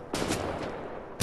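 Sniper rifle fire in the shooter game Wolfenstein, a loud sharp shot near the start, a sustained roar of gunfire through the middle and another blast at the end, with no voices.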